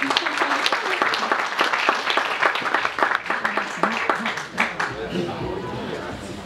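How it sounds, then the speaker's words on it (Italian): A burst of applause from a gathered crowd at an awards ceremony at Circolo Nautico Posillipo in Naples, dense clapping with voices mixed in, tapering off toward the end. "e qui scatta l'applauso."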